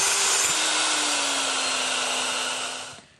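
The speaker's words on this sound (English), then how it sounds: "Make sure that the mixer is grease-free. Mix these up until they're nice and fluffy." An electric hand mixer whirs steadily while whipping egg whites in a grease-free bowl, a loud, bright motor whine that holds for about three seconds before cutting off.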